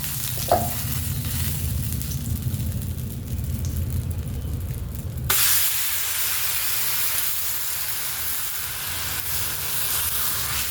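Bottle gourd thalipeeth sizzles steadily in oil on a hot tawa, a continuous loud frying hiss that changes character midway as a burst of sharper, brighter sizzling takes over.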